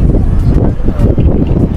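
Strong wind in Shanghai buffets the microphone in loud, rumbling gusts that rise and fall continuously.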